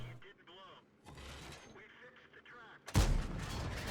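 A tank shell fires and bounces off armor in a World of Tanks style battle on the Pilsen map, a heavy boom that cracks in loudly at the end after a stretch of excited commentary.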